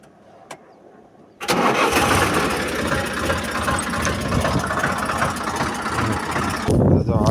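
A farm tractor engine turns over and catches after a brief quiet, then runs loud and rough at close range with a steady mechanical clatter, cutting out near the end.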